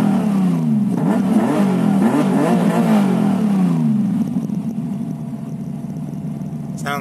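A 2002 TVR T350C's engine is revved nearby in repeated rising and falling bursts, then settles to a lower idle rumble, ending with a brief clatter.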